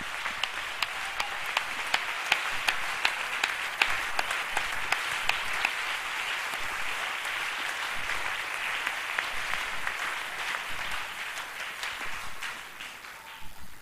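A church congregation at a tabernacle service applauds steadily, a dense wash of many hands clapping at even strength for about fourteen seconds before easing off near the end.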